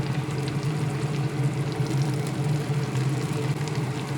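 Chopped tomato goes into a pan of onions fried light golden in tempered oil, for a hilsa fish head and cabbage curry; a steady, dense, fairly loud sizzle with no pauses.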